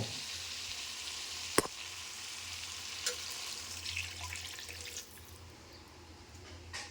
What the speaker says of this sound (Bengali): এরপর আমি এতে আরও একটু জল দিয়ে দেব।